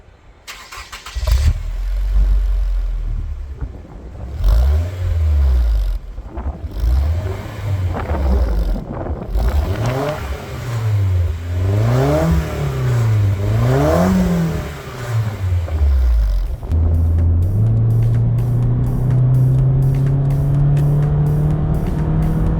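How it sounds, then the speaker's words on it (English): Nissan Silvia S15 with SR20 engine and HKS exhaust, close and loud: repeated sharp throttle blips rising and falling in pitch, then a long steady climb in revs as the car pulls away. "you still get that deeper SR20 tone when you're on the throttle"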